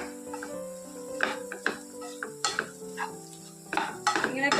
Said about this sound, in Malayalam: നമ്മൾ ഫ്രൈ ചെയ്ത് വെച്ചിരിക്കുന്ന ബീഫിൻ്റെ പീസും കൂടി ഇട്ട് കൊടുക്കാം എല്ലാം കൂടെ നല്ലതുപോലെ ഒന്ന് മിക്സ് ചെയ്തെടുക്കാം